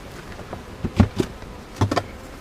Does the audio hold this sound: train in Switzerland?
no